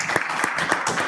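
Brief audience applause for a participant stepping forward, a quick burst of rhythmic clapping from a nearby crowd.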